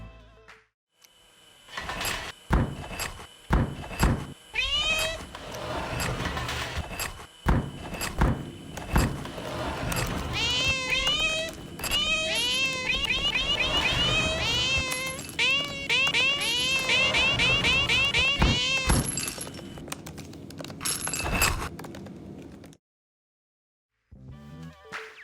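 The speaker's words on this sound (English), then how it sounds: "a door closing, I recorded the oven humming, my cat meowing" A layered mix of repeated cat meows rising and falling, with thumps and a sliding, closing door, over the low steady hum of an oven, then silence.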